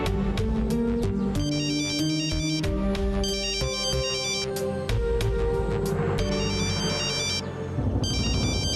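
A phone ringtone plays a repeating electronic melody in several bursts, loud and continuous over about nine seconds, with no talking over it.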